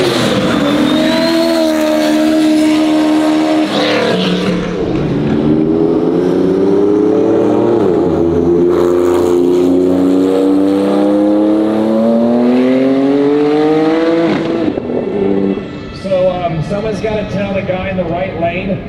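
Drag race cars at a Texas event roar loudly at the start line, engines holding a sustained high-revving drone that rises and bends as they launch, with an announcer talking over the noise.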